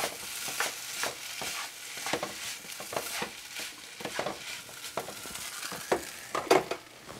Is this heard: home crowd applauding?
no